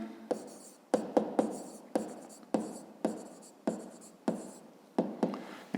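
A pen scratches out a math equation by hand, a series of about a dozen short, crisp strokes in an even rhythm, close and fairly quiet, with no voice over them.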